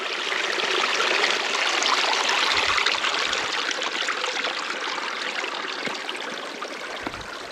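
A small waterfall in Sweden rushes in a continuous, close, hissing splash of falling water, steady and even throughout with no voices.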